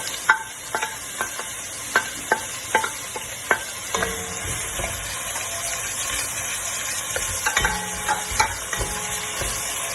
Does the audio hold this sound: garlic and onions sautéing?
yes